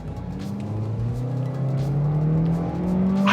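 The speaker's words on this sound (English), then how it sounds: "it's definitely a good sounding engine" A 2023 Toyota Corolla XSE hatchback engine revs and accelerates steadily, its rising drone climbing in pitch over a few seconds, loud and close with no talking.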